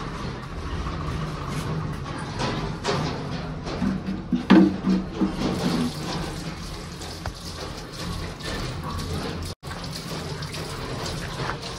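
A bathroom tap runs steadily, a continuous close splashing stream of water with a brief momentary interruption near the end and no talking.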